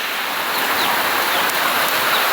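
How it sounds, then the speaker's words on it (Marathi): Heavy rain pours steadily outside a simple village home, a dense, even hiss of falling water that continues without a break and with no voices over it. "आणि आज जरा जोरदारच पाऊस आहे."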